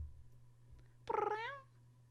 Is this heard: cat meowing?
yes